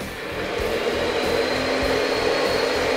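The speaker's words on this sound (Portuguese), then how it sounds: "Agora vamos despejar todo esse creme de leite dentro da batedeira e vamos deixar batendo até ficar um creminho bem homogêneo." Stand mixer whipping cream for a Dutch pie filling, a steady, even motor whir with a faint rhythmic beating throughout, close and continuous without talk.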